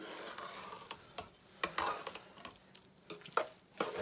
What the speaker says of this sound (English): So you'll stir it, kind of like go underneath, scoop, you want to make sure you get it all